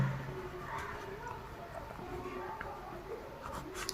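A pen writes a calculation on paper, a faint, steady scratching close by under a low background hiss.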